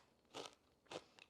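Two sharp, crisp crunches of a homemade sourdough discard cracker being bitten, close and fairly quiet, separated by a short pause.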